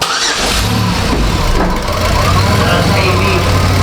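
A 2005 Chevrolet Equinox with the 3.4 engine, PCV system unhooked, cranks and fires up, then settles into a loud, close, rough idle that holds steady with slight surges.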